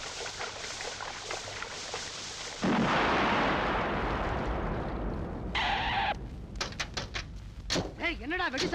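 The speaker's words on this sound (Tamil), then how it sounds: "என்னடா வெடி சத்தம் கேக்குது?" Loud explosive blasts and crackling bangs from a Tamil film scene, a sustained roaring burst followed by sharp scattered cracks.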